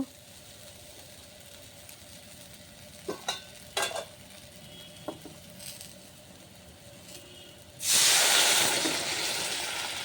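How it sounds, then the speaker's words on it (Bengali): Boiled mung dal goes into a hot pan with a few spoon knocks and stirs over a low simmer. Near the end a sudden loud, sustained hiss bursts up as the dal hits the fat. "এরপর আমি সেদ্ধ ডালটা দিয়ে দেব।"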